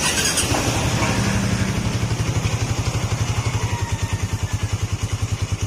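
A Suzuki Raider 150 Fi motorcycle engine idles with a fast, steady mechanical clatter and rattle from the clutch housing, loud and close, with no talking.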